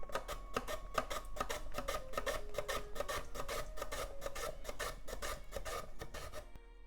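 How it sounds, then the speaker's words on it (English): Carrot sliced on a mandoline into needle-thin strips, a rapid steady run of rasping scrapes, close and fairly loud, repeating for several seconds with no talk. "Let's slice carrot into very thin, like needle thin strips. You can of course use knife, but mandolin is much faster and easier."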